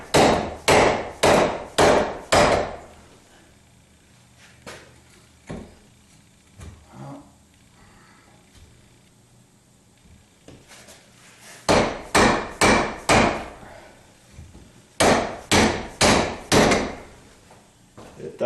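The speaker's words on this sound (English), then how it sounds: "I'm going to see if I can whack that down with a dead blow hammer" Bursts of heavy, rhythmic dead blow hammer blows on metal, four or five quick strikes at a time, driving a U-joint from a 1976 Corvette half shaft, separated by quieter pauses with faint handling noise.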